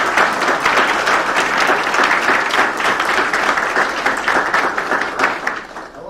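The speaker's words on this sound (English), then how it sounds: "can I get you all to give a round of applause" A crowd at a local Meet the Candidates event in El Reno gives a loud, sustained round of applause, dense clapping filling the whole stretch before tapering slightly near the end.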